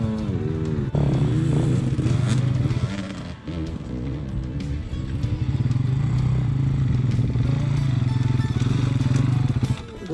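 A Gas Gas 300 dirt motorcycle revs hard at full throttle outdoors, its engine loud and close, climbing and falling in pitch through continuous aggressive revving with a short dip midway.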